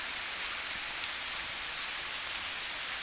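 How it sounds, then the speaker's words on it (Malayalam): Steady rain falling outdoors, a dense even hiss of drops on surfaces, close and continuous with no other sounds. "മഴയാ ഇങ്ങോട്ടൊക്കെ"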